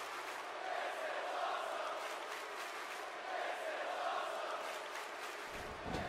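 A large wrestling arena crowd roars and cheers in a steady, loud wash of noise at an ECW no-holds-barred event, lasting several seconds before a sharp thump near the end.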